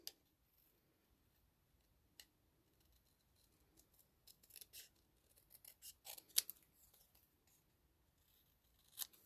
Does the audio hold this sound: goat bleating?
no